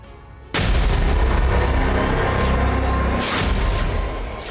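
Heavy booming explosions from Israeli air strikes in Lebanon erupt suddenly after a quiet start, a loud, sustained roar and rumble with a second blast surging around the three-second mark before slowly fading.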